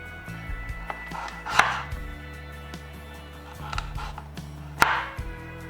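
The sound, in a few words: cutting potatoes into slices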